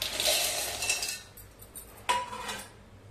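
Peanuts pour into a metal mixer grinding jar while sesame tilgul burfi is being made, a loud rattling clatter followed by a quieter pause and a second sharp burst of scattering nuts.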